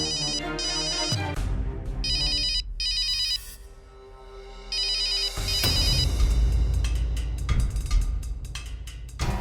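A loud electronic phone ringtone plays repeatedly in a patterned melody, close and clear, briefly pausing before the ringing resumes.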